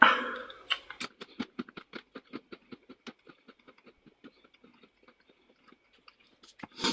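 Close, crisp crunches of Cool Ranch potato chips being chewed come in a quick rhythmic series that slowly grows quieter and sparser, with a louder bite at the start and another near the end.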